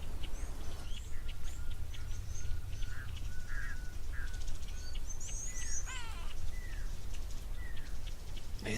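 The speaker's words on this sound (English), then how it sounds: "grey go-away bird calling as well. And there's a blacksmith lapwing" A grey go-away bird and a blacksmith lapwing call at an outdoor waterhole, with scattered chirps, nasal cries and sharp metallic clinks coming at moderate distance over a low steady background rumble.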